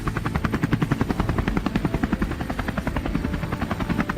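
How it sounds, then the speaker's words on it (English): A helicopter flies low over a herd of wild hogs moving through brush, its rotor chopping in a fast, steady pulse that stays loud and close throughout with no talk. "helicopter roared through the sky, tearing across the horizon in pursuit of the beasts below"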